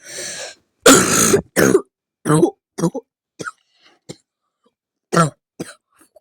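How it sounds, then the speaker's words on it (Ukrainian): A series of coughs and throat clearings, close and loud, some long and rough, others short and sharp, separated by silent pauses. "ну я трохи хворий, тож буду кашляти"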